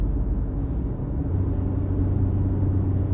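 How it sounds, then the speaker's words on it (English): Cars driving along a road make a steady, loud low rumble of engine and tire noise that continues throughout without breaks. "These cars right here are just going way too slow."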